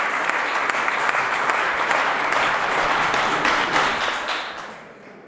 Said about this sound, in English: big round of applause for a bride and groom for the beautiful Mangal Fera ceremony